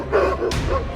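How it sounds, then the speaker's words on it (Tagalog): Dogs in a village street bark in a short burst, a close yip rising then a second sharper bark, with no talk over it. "tumahol lahat ng aso sa kalsada"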